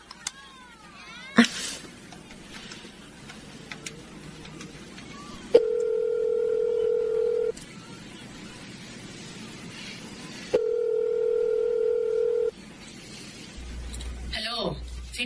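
Payphone receiver gives two steady dial-tone bursts a few seconds apart, with clicks and handling noise between them, in a public setting where people talk in the background.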